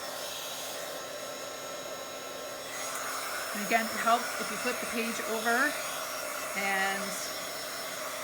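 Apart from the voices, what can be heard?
dryer blowing to dry the back of a Bible journal page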